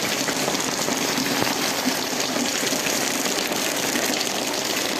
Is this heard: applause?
no